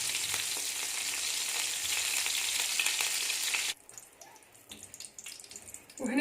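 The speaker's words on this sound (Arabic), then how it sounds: "وهنايا راني درت شويه مارغرين البنات ومغرفه تاع ماكله تاع زيت نحمر لي شامبينيون تاعي" Mushrooms frying in a pan with margarine and a ladle of oil, a loud steady sizzle with crackles for about four seconds, then breaking off into quieter clinks and faint watery kitchen sounds.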